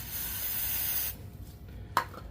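Carburetor cleaner sprays into an Echo SRM-2620 string trimmer in one steady, close hiss lasting about a second, then stops, followed by a brief light clatter.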